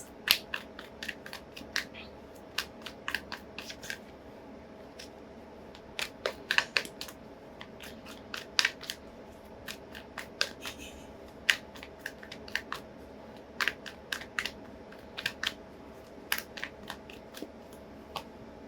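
Repeated soft riffling and flicking of shuffled tarot cards, irregular bursts of crisp clicks over a low steady background hum.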